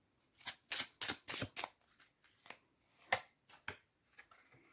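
Tarot cards being shuffled in a quick flurry of crisp riffling bursts, then several softer, spaced card slaps and flicks, close and fairly quiet with no talking.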